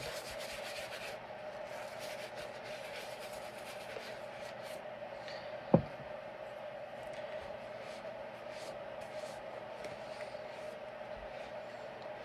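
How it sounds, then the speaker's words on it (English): A brush works cleaner into patent leather with soft, continuous close scrubbing, fairly quiet and steady, broken once by a single sharp tap midway. "then you can just go ahead and get your brush and brush right in."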